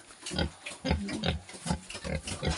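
Pigs on a pig farm grunt and squeal close by in a steady overlapping chorus of short rhythmic calls, with no one talking.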